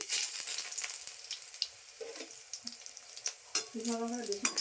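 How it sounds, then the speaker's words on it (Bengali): Cumin seeds and dried red chilies crackle and sizzle in hot oil in a pan while cooking aloo dum, with steady frying hiss, sharp pops and light stirring scrapes throughout. "তেল গরম হয়ে গেছে, আমি জিরা ফোড়ন দিচ্ছি, শুকনো লঙ্কা দিচ্ছি"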